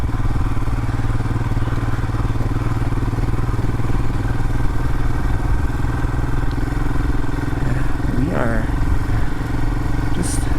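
A Royal Enfield Himalayan motorcycle rides through sand with a steady, loud engine drone and rumble throughout, plus a brief clatter near the end.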